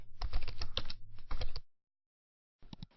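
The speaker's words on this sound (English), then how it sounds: "Then go back to the software and type your ClickBank name into it." Quick bursts of typing on a computer keyboard, a cluster of close, crisp key clicks, then a pause and a few more taps at the end.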